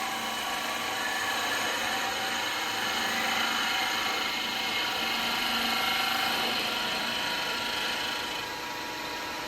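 A carbide tool cuts into a log spinning on a woodturning lathe, making a loud continuous grinding whir with a steady motor drone that fades slightly near the end, no speech.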